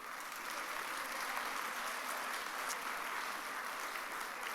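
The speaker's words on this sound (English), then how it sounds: "with that applause" Audience applause fills a college convocation hall, a steady dense wash of clapping at moderate, somewhat distant level that holds evenly throughout, with no voices over it.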